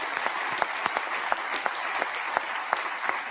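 Conference audience at a closing ceremony applauding steadily, a dense wash of many hands with a few sharper nearby claps standing out, no voices over it.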